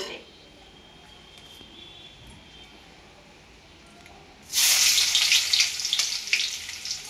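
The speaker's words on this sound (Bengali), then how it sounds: "তেল গরম হয়ে গেছে। এবার আমি পেঁয়াজ দিব।" Onions and a green chili go into hot oil. After a quiet stretch with faint talk, a loud, bright sizzle bursts out and keeps crackling strongly to the end.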